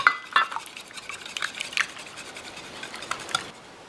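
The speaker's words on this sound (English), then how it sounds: "And now we're going to whisk this until these 3 ingredients are nice and well incorporated." Eggs, butter and cream whisked in a bowl make a quick run of light clinking taps and scrapes as the whisk strikes the sides, close and fairly faint, with no one speaking.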